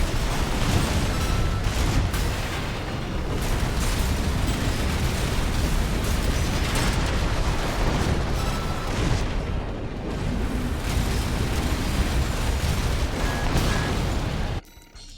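Gatling gun on a mech in Armored Core VI, a continuous roaring stream of rapid fire mixed with booming impacts and explosions, loud and unbroken for the whole stretch before cutting off abruptly.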